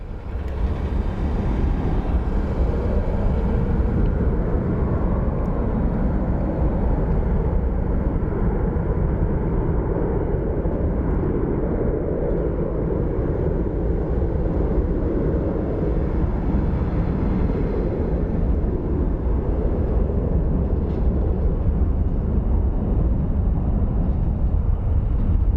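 An American Airlines Boeing 737 at Phoenix Sky Harbor International Airport makes a loud, continuous jet engine roar. The roar rumbles steadily throughout with a slight rise and fall, and there is no talk over it.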